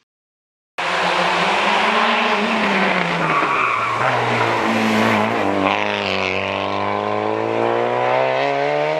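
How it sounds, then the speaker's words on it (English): A mid-1980s Mazda Familia (323) rally car engine revs and whines loudly, tires squealing as it skids, pitch sliding down then climbing again as it powers away. "this mid-80s Mazda Familia or 323 rally car"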